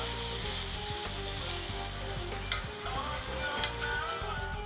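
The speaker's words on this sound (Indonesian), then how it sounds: "Kemudian masukin bawang putih dan dimasak sampai harum." Garlic fries in a hot wok while bakmi godok is being cooked, giving a loud, continuous sizzle with faint ticking and scraping of a utensil against the metal.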